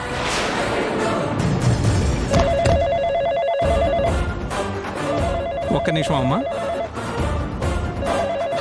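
A telephone rings with a repeated electronic tone in indoor scenes of a Telugu TV serial, heard under and between people talking.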